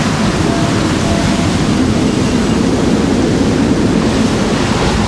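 Strong wind roars over a sailboat out on the North Atlantic, mixed with rushing waves in one loud, unbroken broadband wash that stays steady throughout, close to the microphone with no voices.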